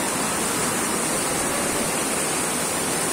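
Heavy rain pours over the flooding Kalilo River in Banyuwangi, a dense, steady, loud roar of rushing water and rainfall filling the scene without pause or voices.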